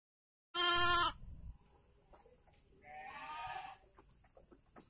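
A young lamb on a livestock farm gives two bleats, a loud, sharp cry and then a longer, quieter call, close to the listener against a quiet background.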